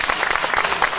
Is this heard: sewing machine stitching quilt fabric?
no